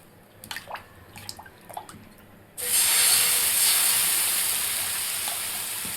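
Rava dosa batter hits a hot flat nonstick pan with a loud, sudden hiss that holds as a steady, bright sizzle, slowly easing. A few light clinks come just before it.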